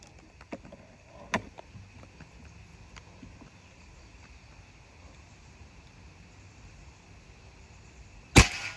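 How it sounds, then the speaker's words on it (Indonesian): Shots from an FX Maverick bullpup air rifle at a target: a faint sharp crack early, then a loud, abrupt snap near the end, over quiet outdoor background. "Tembakan terakhir, tembakan ke-10 ini ya."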